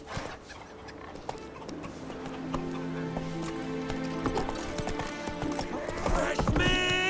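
Rhythmic clip-clop of horse hooves galloping across ground in The Witcher 3, steady and fairly close, with a musical score swelling beneath and no talk.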